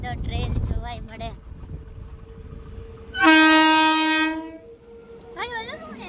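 A train passes nearby and sounds a loud, sustained horn blast for about a second and a half, with rumbling in the background and people talking before and after it.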